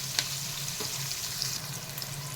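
Prawns frying in hot oil with a steady close crackling sizzle and a couple of sharp stirring scrapes, for a prawn and cucumber masala curry.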